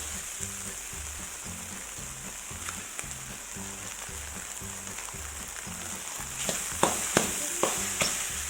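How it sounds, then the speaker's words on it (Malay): Eggs sizzling in a hot wok for Chinese egg fried rice, a steady close frying hiss joined near the end by a few sharp metallic scrapes and taps. "Okey, masukkan telur."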